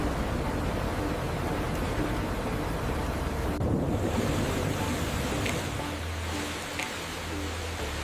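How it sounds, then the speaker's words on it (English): Water pours continuously through large industrial washing tanks that rinse the husks off thousands of sprouts, a dense, steady rushing wash that stays close, then drops to a slightly lighter flow partway through. "Thousands of sprouts are flushed into large washing tanks to separate the husks, with continuous water flow carrying away the excess."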